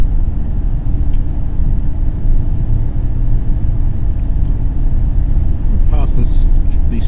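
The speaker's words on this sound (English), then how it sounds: "So we're still in 5th gear, sitting on 100 k's at 2000, just on 2000 RPM." A car cruising at about 100 km/h in 5th gear near 2000 RPM on a newly opened road from Palmerston North to Woodville, heard from inside as a steady low engine and road rumble throughout, with faint voices near the end.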